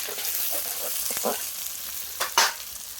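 Ginger garlic paste fries with onions in a pan, a steady close sizzle broken by a few stirring scrapes and a sharper knock near the end, no voices.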